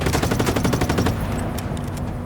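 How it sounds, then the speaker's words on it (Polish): Rapid automatic gunfire in the video game Just Cause 3 rattles out loud and close for about a second, then gives way to a few scattered distant shots. "Ktoś już strzela."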